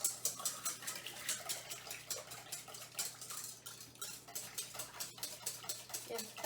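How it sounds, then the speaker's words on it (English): Metal whisk clinking rhythmically against a bowl as mac and cheese sauce with cayenne is beaten together, a steady run of light, close scraping taps with faint talk in the background. "so then it says whisk all this together"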